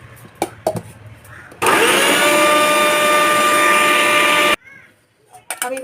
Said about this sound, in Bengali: মিক্সিতে পেস্ট করে নিই।